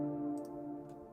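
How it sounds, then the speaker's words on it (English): A choir pad in a modern pop arrangement holds a smooth, sustained chord of blended vocal-like tones, steady throughout with a couple of faint high clicks. "And then we've got our choir."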